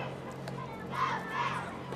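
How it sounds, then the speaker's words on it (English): Junior high JV cheerleaders performing a cheer at an outdoor Christmas parade, a group of young voices shouting in unison at a distance over steady crowd background. "And they are offering a cheer for us here."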